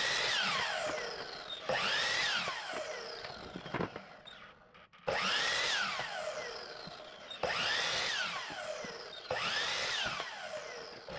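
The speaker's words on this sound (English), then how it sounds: "Set your miter saw settings both to 5 degrees. Trim the end of a 2x2, then slide and cut 4 more at 14 inches." A miter saw cutting 2x2 wood, with four loud whining passes that each spin up, bite through the board and wind down, separated by short pauses and faint handling clatter.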